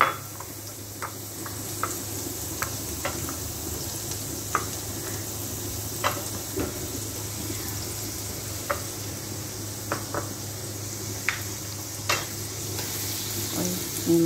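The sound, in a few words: onions frying in a pan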